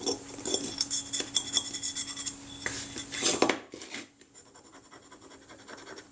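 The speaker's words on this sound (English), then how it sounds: "I'm just using the back edge of my scalpel here to scrape that rubbish off" The back edge of a scalpel scrapes old adhesive residue off a Kodak Retina camera body, giving a sequence of sharp, close scratching strokes with short gaps before the scraping stops and a quiet tail follows.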